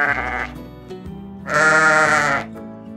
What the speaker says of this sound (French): Lui, c'est le mouton.